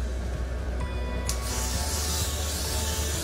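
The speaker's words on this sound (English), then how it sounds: "I'm gonna go in with my Got To Be Glue Freeze Blush Spray." Got To Be Glue Freeze spray sprayed onto hair, one sustained close hiss of aerosol bursting in after a brief click and continuing loud and steady to the end, with no talk over it.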